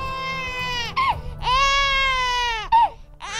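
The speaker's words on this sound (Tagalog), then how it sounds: "nang makarinig sila ng iyak ng isang sanggol" A baby cries as a sound effect in a Filipino aswang horror audio story: loud, close, drawn-out wailing cries broken by short sobbing catches, with no one talking.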